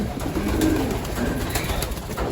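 Pigeons in a loft at feeding time give a steady, soft murmur of cooing and bird calls close by, with no one talking.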